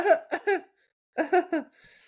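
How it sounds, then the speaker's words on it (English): Two short bursts of coughing, each three quick harsh coughs, close to the microphone, separated by a brief pause. "Oh, he's got a coughing fit."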